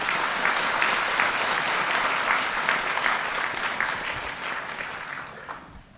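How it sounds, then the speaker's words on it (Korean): Church congregation applauding, a full, continuous burst of many people clapping that stays loud for several seconds before tapering off toward the end. "박수 좀 쳐줘."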